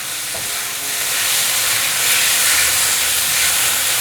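Vegetables stir-fry in a hot wok with black vinegar, a loud, steady hissing sizzle that swells slightly and stays close and continuous without any talking.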